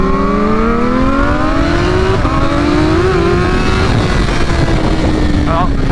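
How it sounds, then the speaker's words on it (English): A 2023 BMW S1000RR sportbike running E85 fuel accelerates hard on a cold rear tire, its engine note climbing steadily in pitch through the gears, loud and close, with a voice talking over it. "Well, the tire's not warm, so I spun it."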